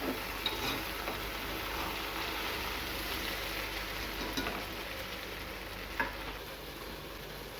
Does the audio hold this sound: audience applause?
no